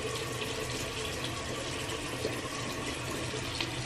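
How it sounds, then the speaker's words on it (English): Water runs from a faucet in a steady, fairly quiet stream, with no one speaking. "so my face, add a little bit more water."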